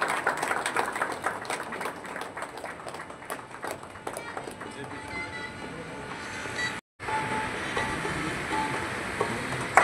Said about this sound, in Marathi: टाळ्यांचा आवाज जोरात येऊ दे.